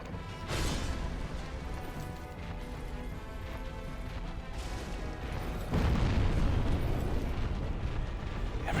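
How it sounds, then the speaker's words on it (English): A sustained roaring blast in Dark Souls Remastered, a dense rumbling explosion that swells louder partway through and continues without letting up, with no talk over it. "That's an explosion and a half."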